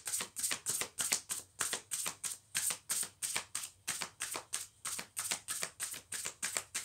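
Power of Love oracle cards shuffled by hand in a quick, regular run of crisp riffling bursts, close and fairly quiet, with no talking over them.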